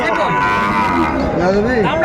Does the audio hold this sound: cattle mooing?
yes